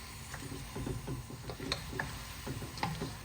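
Lamb pieces frying in plain oil in a karahi for a Charsi lamb karahi, a steady close sizzle broken by frequent small clinks and scrapes of stirring, with no talking.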